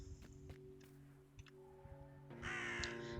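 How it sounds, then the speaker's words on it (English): A crow caws in the video game Drake Hollow, a couple of harsh calls rising near the end over a steady low game ambience and faint ticking, with no talk. "So now we need to visit the crow again."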